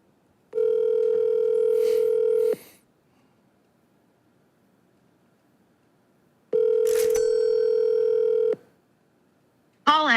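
A phone call ringing tone, two long steady electronic ring bursts of about two seconds each separated by silence, clear and close, with a brief breath or rustle during each ring and the start of another sound at the end.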